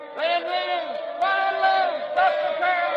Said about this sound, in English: The crowd, they're yelling something.